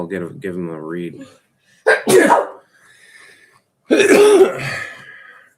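A single sharp sneeze near the microphone, set between stretches of casual conversation at a breakfast.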